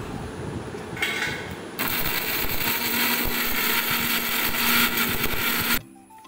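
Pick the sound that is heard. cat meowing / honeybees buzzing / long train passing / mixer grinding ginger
mixer grinding ginger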